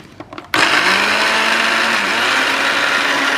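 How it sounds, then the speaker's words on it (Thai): A blender whirs into action on pineapple, kicking in abruptly after a brief pause and running as a loud, steady, high-pitched grinding drone to the end. "ปั้นสับปะรด ใส่ เครื่องปั้นเลย"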